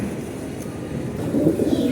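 Soft, low pigeon cooing murmurs close by, a little fuller toward the end, with no voices.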